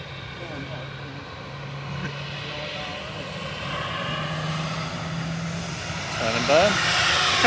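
A Qatar Airways jet takes off from Manchester Airport bound for Doha, a broad, building engine roar that swells toward the end, with people talking over it.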